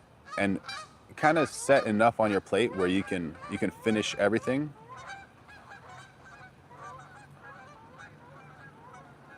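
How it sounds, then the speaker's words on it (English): After a person speaks close up, ducks call in the background with soft, repeated honking cries that continue faintly for several seconds once the talking stops. "That's the sound of ducks."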